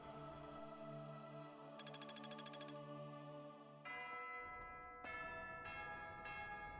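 A church bell rings in Fire Emblem: Three Houses, a few resonant metallic strikes with long ringing decay over soft game music, with no voices.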